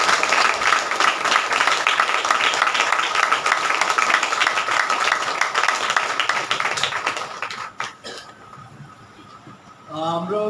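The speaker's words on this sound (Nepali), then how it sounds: "सबैले ताली बजाएर यसुलाई धन्यवाद दिन्छौँ" Church congregation applauding after a prayer, a dense sustained burst of clapping from many hands that thins out and fades, followed by brief talk.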